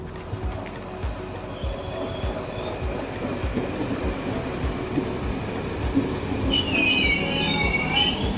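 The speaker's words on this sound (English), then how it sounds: "And we're on the train and heading to Danube, Anne, was it?" Steady rolling rumble of a train ride with rhythmic wheel clatter over rail joints and a rising metallic wheel squeal near the end, heard from inside the carriage.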